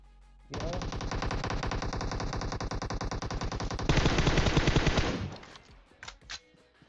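Loud, rapid automatic gunfire in PUBG Mobile rattles continuously for several seconds, growing harsher midway, then stops and leaves a few scattered shots trailing off.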